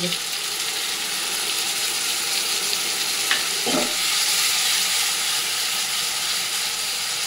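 Fish fried in a pan with water-mixed turmeric and chili spice paste, a steady broad sizzle throughout with a brief louder burst of spattering midway as the paste hits the hot oil.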